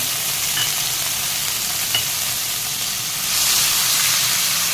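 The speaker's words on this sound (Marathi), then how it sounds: "हे आपण छान परतून घेऊया कांद्याला तेल सुटेपर्यंत आपण हे परतून घ्यायचं आहे" Onion puree sautés in hot oil with cumin and asafoetida for a jackfruit kofta curry, giving a steady, loud frying hiss that swells slightly near the end, with no talking.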